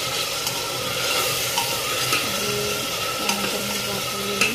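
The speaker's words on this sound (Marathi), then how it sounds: "तर मी आता हा टमॅटो टाकत आहे" Tomato added to hot oil in a pan and stirred, a close, steady sizzle with scraping stir strokes and a few clinks, no voices.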